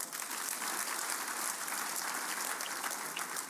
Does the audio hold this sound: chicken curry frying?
no